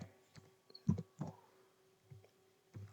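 Sparse keystrokes on a computer keyboard are typed into a terminal, a few soft, close clicks spaced irregularly in a quiet room with no voices.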